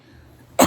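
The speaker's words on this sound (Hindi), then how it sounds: "खांसी कैसी हो रही है हमें, पता नहीं कैसे हो।" A single sharp cough bursts out near the end, loud and close after a stretch of faint, quiet background.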